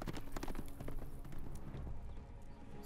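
Rhythmic hoofbeats of a horse galloping in the video game Telltale: Game of Thrones, dense and steady throughout, with some clattering and a busy background behind them.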